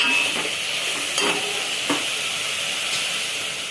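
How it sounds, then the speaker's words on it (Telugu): Chili powder fries in hot oil with a continuous close sizzle, and a couple of light stirring scrapes come through during cooking for a drumstick curry, with no one talking. "కారం కొంచెం ఆయిల్లో ఉడకాలి."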